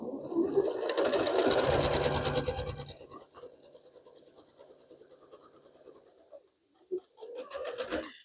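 A sewing machine stitches a patch onto an old quilt, running loud and fast for a few seconds, then slowing into softer intermittent stitching with short pauses and a final brief burst, close up and with no voices.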